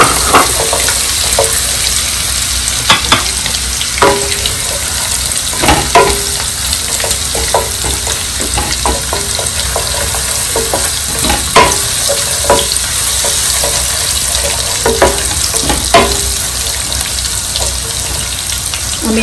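Garlic paste sizzles steadily in a hot pan through the whole stretch, with repeated sharp scrapes and clinks of a spoon stirring against the metal and no voices.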